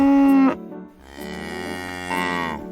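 A cow moos on a farm, one long, loud, harmonic low bellow followed by a second drawn-out moo that rises slightly toward its end, with no voices around.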